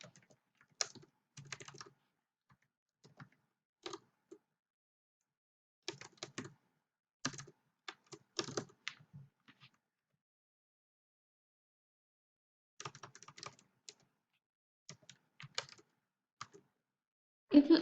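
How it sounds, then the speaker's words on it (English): Quiet close-up typing on a computer keyboard, short bursts of light key clicks separated by silent pauses, with no talk. "let me type apple"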